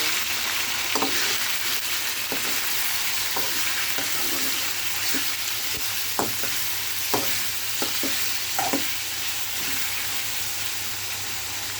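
Chicken frying in a pan, a steady close sizzle with scattered scraping clicks as it is stirred.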